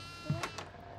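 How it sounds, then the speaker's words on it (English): A goat bleats once, brief and fairly close, in the horror video game Devour, over a steady low ambient hum with faint voices. "There's a goat in here as well."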